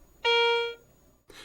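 A single clear electronic coin alert tone from a Garrett Ace 250 metal detector, signalling a U.S. coin, rings for about half a second and then stops. A brief rustle follows.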